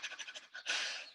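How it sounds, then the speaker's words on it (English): Rapid fire breath during a qigong and taijiquan session: a quick run of about eight short, sharp huffs, then one longer forceful exhale, close and fairly quiet. "Out. Fire breath."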